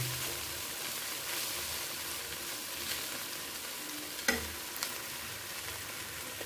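Okra frying in a pan after turmeric and spice masala are added, giving a steady broadband sizzle with a few brief clinks of stirring, moderately close, with no talking.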